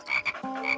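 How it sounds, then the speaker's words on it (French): A frog croaks in an animated cartoon: several short, close, clear croaks follow one another in quick succession, with no voices over them. "Ah, une grenouille!"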